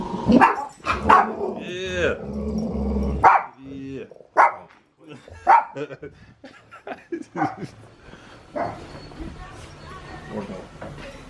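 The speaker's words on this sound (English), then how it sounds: "Guard dogs." Guard dogs at a precision machining shop bark in loud, close, irregular bursts, with a few growly yelps, while a person briefly chuckles and speaks between them.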